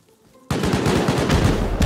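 Turret and rocket gunfire in a video game: after a quiet half second, a loud, dense burst of rapid automatic shots begins and continues steadily to the end.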